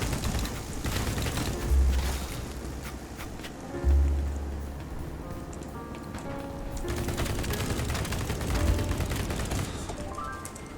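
An Ultimax 100 machine gun firing in the BattleBit video game, with rapid rattling bursts and mechanical clatter over a steady rumbling background, including a few heavier low thumps.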